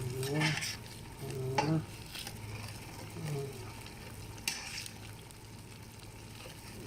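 Food, including carrots and potatoes, sizzles in a frying pan while being stirred, with a few scraping stirs of the utensil against the pan, soft and close, and quiet talk over it.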